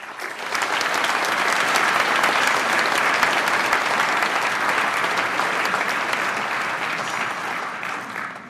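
Sustained, loud applause from a conference audience welcoming an ambassador from the Marshall Islands at a Washington, D.C. climate change meeting, a dense even wash of clapping that holds steady throughout.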